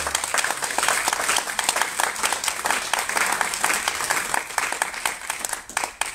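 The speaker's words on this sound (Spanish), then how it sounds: "Y por favor, un aplauso a nuestro invitado." Audience applause fills a public lecture hall for a guest speaker at a human-rights congress, a dense, steady patter of many hands clapping without pause, loud and close throughout.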